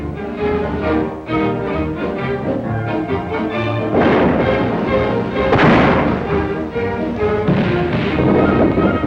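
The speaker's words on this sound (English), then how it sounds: "Thousands of anti-aircraft guns and thousands more in production." Anti-aircraft guns fire in a 1941 American wartime newsreel, heavy booms and crashes thudding repeatedly over a dense, continuous soundtrack, with stronger blasts standing out midway.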